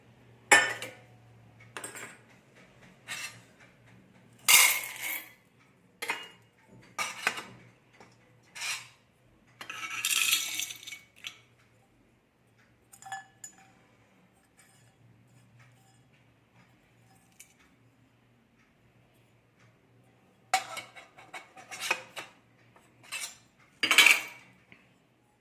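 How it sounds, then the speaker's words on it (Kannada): Small bowls from a steel spice box are emptied into other bowls, making sharp metallic clinks and clatters in scattered bursts with quiet gaps between them, close and clear with no talk. "ಒಂದೊಂದಾಗಿ ತೆಗೆದು ಈ ಬೌಲ್ಸಲ್ಲಿರೋದೆಲ್ಲ ಬೇರೆ ಬೌಲ್ಸಕ್ಕೆ ಟ್ರಾನ್ಸ್ಫರ್ ಮಾಡ್ತಾ ಇದ್ದೀನಿ"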